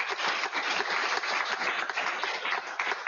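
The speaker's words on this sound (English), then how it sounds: "Big round of applause for him" Sustained audience applause in a hall following a game design lecture, a dense steady wash of many hands clapping at even loudness throughout, with no talking.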